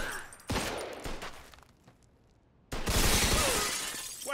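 Two loud bursts of gunfire, with glass shattering, in a Mafia II: Definitive Edition shootout, separated by a quieter gap with faint noise.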